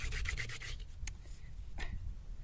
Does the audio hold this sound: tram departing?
no